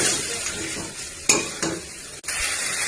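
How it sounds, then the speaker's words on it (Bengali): Diced potatoes, first pressure-cooked to one whistle, are stirred in a hot pan: a loud close sizzle with a few sharp spatula scrapes and clinks against the metal over about three seconds, and no voices. "এখানে আলু চালিয়ে নিলাম।"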